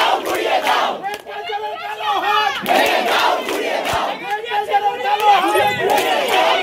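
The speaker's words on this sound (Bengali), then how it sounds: "ছাত্রছাত্রী সহ চিকিৎসকেরা ডাক্তার অভিক দে ও বিশাল সরকারের নামে স্লোগান তোলেন" Students and doctors chant slogans in unison outside Burdwan Medical College, loud, close, rhythmic group shouts that repeat in waves with crowd chatter between them.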